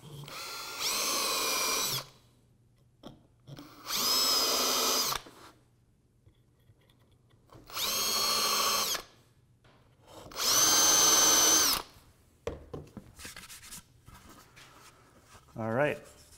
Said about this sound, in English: Going to flip this over and drill from the other side to clean up the back here.